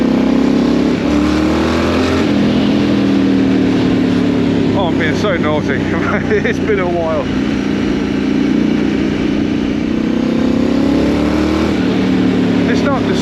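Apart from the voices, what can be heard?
Triumph Scrambler 900 motorcycle engine rumbling while riding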